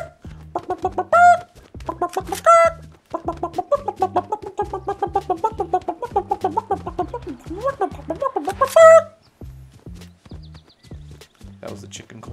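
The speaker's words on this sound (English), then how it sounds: "That was the chicken call." In Fortnite, a chicken call gives bursts of loud, repeated clucking in quick rhythmic runs, with gaps between them, over steady low thumping steps.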